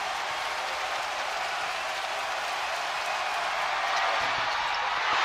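A dense, sustained roar comes from the standing crowd inside Yokohama International Pool during free throws at a B.League basketball game between Yokohama B-Corsairs and Shimane Susanoo Magic, swelling slightly toward the end, with faint ball bounces underneath.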